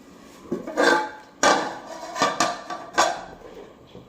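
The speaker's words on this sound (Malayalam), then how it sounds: "ഇത് ഇനിയൊന്ന് കഴുകി ഗ്യാസ് സ്റ്റൗവിലോട്ട് വെക്കാൻ പോവുകയാണ്" Pressure cooker holding dal is washed and set onto a gas stove, with a series of sharp metallic clanks and knocks of cookware at close range, spaced unevenly over a few seconds with no talking.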